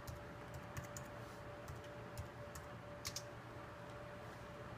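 Typing on a computer keyboard, steady clicking keystrokes in irregular bursts, close and moderately quiet over a constant electrical hum.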